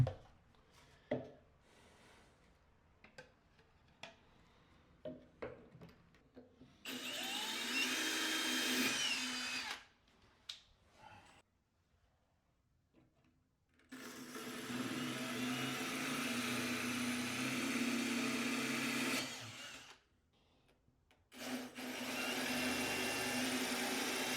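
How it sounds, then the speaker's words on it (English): A power drill bores holes through floor tile during a toilet install, running in two long, loud whining bursts with short taps and pauses between them, and no one speaking. "all the holes are drilled out"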